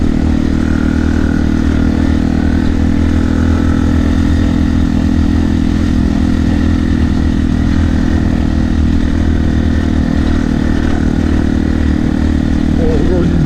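A motorcycle engine runs steadily at close range during a ride with a dog aboard, a continuous low mechanical drone with wind noise, while someone talks over it.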